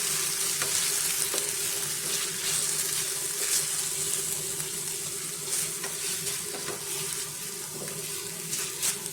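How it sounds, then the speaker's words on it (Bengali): A spicy bread snack mixture with ketchup is stirred in a hot pan, giving a steady sizzle and wet scraping stir strokes that stay even and close throughout. "এবার আমি পুরো মিশিয়ে নেব এটাকে"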